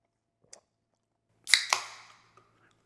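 Someone chews a mouthful of pasta with canned cherry tomatoes, basil and parmesan during a blindfolded taste test, making one soft crunchy bite followed by a few close, wet chews over near silence.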